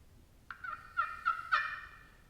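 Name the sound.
slate over copper turkey friction call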